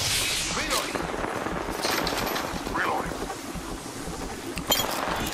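Rapid Volt SMG fire in Apex Legends, a dense stream of electric-tinged shots over noisy battle ambience, steady and fairly loud throughout with a sharper burst near the end.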